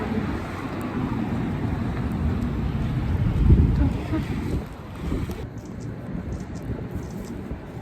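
Wind blows outdoors, a loud steady rumbling buffet across the microphone that swells and eases, with faint voices in the background.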